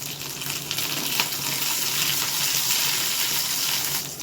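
Chopped green chilies and curry leaves hitting hot oil with garlic in a pan over low heat, giving a steady broadband sizzle that holds evenly throughout and is close and fairly loud.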